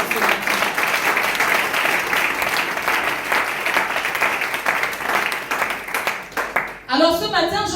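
A church congregation applauds and cheers loudly and without a break for several seconds. The clapping then stops abruptly and a voice speaks at the end.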